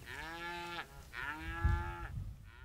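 Cattle on open Idaho rangeland give two drawn-out moos one after another, fairly close and clear, followed by the start of a third, with low rumbling background noise beneath.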